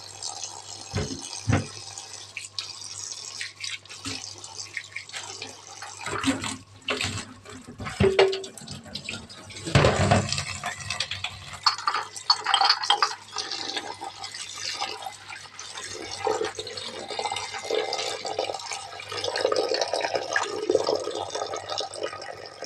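Swiss chard being washed in a sink full of water to rinse off sand and mud, with running tap water, splashing and dripping as the leaves are handled, rising and falling in bursts.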